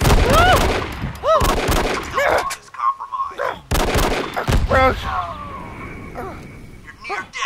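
Gunfire in the video game Send in Jimmy, sharp shots bursting in quick clusters with gaps between, mixed with game voices and effects, fairly loud and close.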